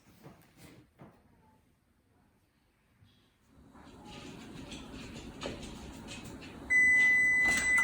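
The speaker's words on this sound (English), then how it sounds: "When the oven starts beeping, you hit the stop button" A steady electronic oven timer beep sounds near the end, over a humming background that rises after a brief quiet stretch.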